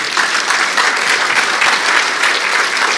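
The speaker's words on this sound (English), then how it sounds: "Give yourselves a massive round of applause." A large audience at a community pitch evening in Geelong applauds loudly and steadily, dense clapping filling the whole stretch without a pause.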